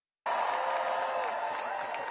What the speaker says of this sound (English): Take a look at this huge crowd right here in our nation's capital.